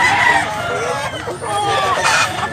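A three-year-old rooster in Tabunok, Cebu crows loudly and close. The short, strained crow is mixed with clucking from other fowl and a background voice.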